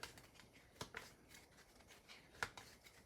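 Cards being shuffled by hand during an Aeon's End Legacy tabletop game, a few quiet riffling snaps and taps over a soft background, no talking.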